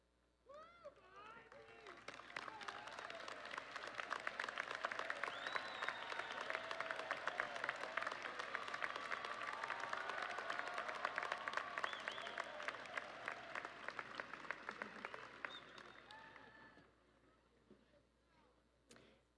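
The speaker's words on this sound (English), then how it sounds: "I ask them to stand and be recognized by our applause" Sustained audience applause for graduates at a 2015 commencement ceremony, a dense wash of clapping from a large crowd that swells quickly, holds steady for about fifteen seconds, then tapers off.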